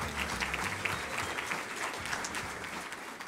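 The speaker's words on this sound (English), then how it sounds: "Give yourselves a round of applause for being here." Audience applause at a Columbus Metropolitan Club gathering, a steady wash of many hands clapping close by, sustained and even for the whole stretch with faint crowd murmur beneath.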